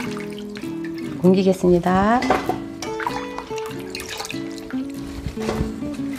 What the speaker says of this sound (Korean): 이제 잘라놓은 배추를 이렇게 한 번씩 담가주세요